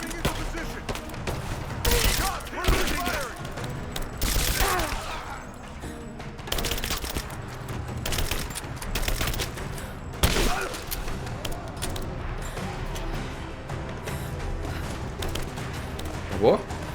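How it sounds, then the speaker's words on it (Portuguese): Gunfire from the video game Rise of the Tomb Raider: bursts of shots and volleys scattered through a dense, busy game soundscape, with loud peaks around several moments and people talking over it. "Quem tá atirando ainda?"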